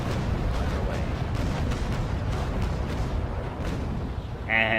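Ship cannons fire a double-shot broadside in a naval battle game, the Trincomalee, a sustained rumbling roar of heavy booms layered together, loud and close, ending with a short tonal interface chime.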